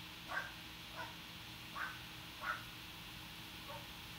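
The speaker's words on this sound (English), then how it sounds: "My little dog was barking, but she's not barking now." A small dog barks at a distance in a quiet room, five short yaps spaced roughly evenly over about four seconds, faint above a steady low hum.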